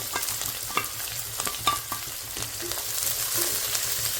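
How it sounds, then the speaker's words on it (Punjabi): Onions frying in oil with cumin, stirred with several scraping strokes and clinks over a sizzle that grows brighter and louder toward the end, close and without talk. "ਜੀਰਾ ਪਾ ਕੇ ਤੇਲ ਤੇ ਨਾਲ ਦੀ ਨਾਲ ਪਾਤਾ ਆਪਾਂ ਪਿਆਜ਼ ਠੀਕ ਹੈ ਜੀ ਪਿਆਜ਼ਾਂ ਨੂੰ ਭੁੰਨਾਂਗੇ ਆਪਾਂ"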